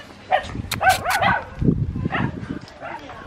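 Dogs bark and yip in short, excited bursts close by, mixed with people talking over them.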